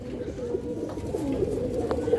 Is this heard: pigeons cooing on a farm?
yes